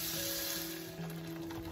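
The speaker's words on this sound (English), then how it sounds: "The tomatoes are cooking in the pan along with the onion paste." Tomato puree cooking with onion, garlic and ginger paste in oil in a pan, for homemade Punjabi dal makhani, gives a steady, soft sizzle with a faint hum, continuous and even throughout.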